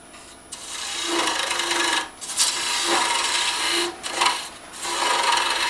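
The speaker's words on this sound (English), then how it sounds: "I'm removing a little bit of this material back here" Wood being cut on a lathe while turning a long, thin finial gives a steady raspy scraping hiss, close and continuous, dipping briefly in a few short pauses between passes of the tool.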